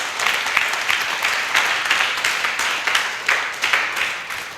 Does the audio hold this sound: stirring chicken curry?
no